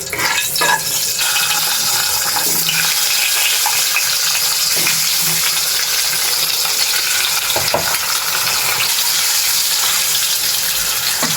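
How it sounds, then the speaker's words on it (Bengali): Eggs fry in hot oil seasoned with a pinch of salt and turmeric, a loud, steady sizzle that runs unbroken, with occasional sharp clicks and scrapes from stirring. "কারণ ডিমগুলো আগে ভেজে নিতে হবে"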